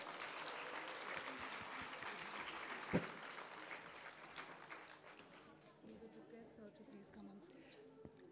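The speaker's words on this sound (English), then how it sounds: "Please give him a huge round of applause." Audience applause at a school annual day for an international school, a broad wash of clapping that stays steady with one sharp louder clap near the middle before thinning out toward the end.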